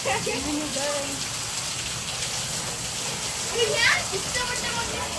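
Hailstorm in India with ice pellets pelting down, a dense steady patter and hiss like heavy rain on hard surfaces, continuous and close, with brief voices in the background.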